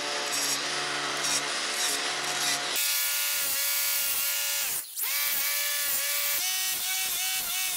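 Side grinder fitted with a 1/8 grinding disc sharpening chainsaw teeth: a high electric whine with rhythmic dips as the disc touches each tooth, one brief cut-out midway, close and fairly quiet.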